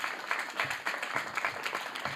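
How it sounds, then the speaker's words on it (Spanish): Brief, fairly faint audience applause for Rafael Cabrera, coordinator of the Madrid Film Commission, at a conference talk, a soft wash of many hands clapping. "un fuerte aplauso para Rafael Cabrera"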